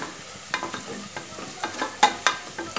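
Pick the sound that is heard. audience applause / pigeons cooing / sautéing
sautéing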